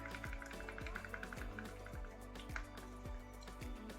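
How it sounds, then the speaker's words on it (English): Polyacrylic dribbles and drips into thick Interference Red acrylic paint to thin it, a close series of soft, regular liquid plops roughly every half second, faint and with no talking. "I'm gonna water it down just a little bit with some polyacrylic"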